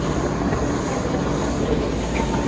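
Train in motion, a dense, steady rumble and rattle of rolling cars filling the clip at constant loudness, close by and with no talk over it.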